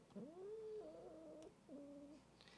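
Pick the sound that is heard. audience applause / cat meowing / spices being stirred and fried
cat meowing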